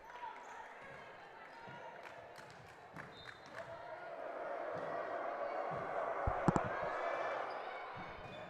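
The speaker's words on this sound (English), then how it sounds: "Beautiful, incredible crowd noise from the student section" A student section cheers at a high school volleyball match in a gym, its crowd roar building steadily under play-by-play commentary, with ball hits and sneaker squeaks cutting through near the end.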